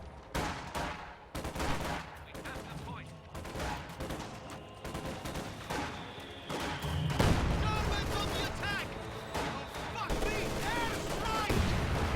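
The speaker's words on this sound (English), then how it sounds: "Anti-infantry strafe coming in." Gunfire from an anti-infantry strafe in a video game, a dense run of sharp shots and booming impacts spread across the whole stretch, with chattering bursts later and a voice talking over parts of it.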